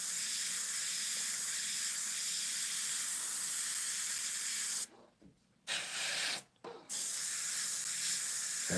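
Spray paint hisses steadily while flames are painted in an opaque mix, a loud continuous spray that cuts off twice briefly before resuming.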